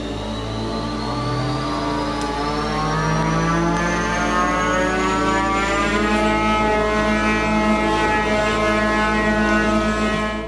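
Tiny 147-gram combat robot with a hub motor and gyro spinning in an arena, a loud sustained droning whine with rich harmonics whose pitch climbs slowly and then holds steady.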